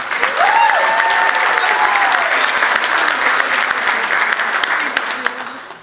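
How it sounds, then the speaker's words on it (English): Wedding guests applaud during reception speeches in Pittsburgh, a loud, sustained wash of clapping from a full room, with a brief voice rising over it near the start. "If everyone can give her a round of applause."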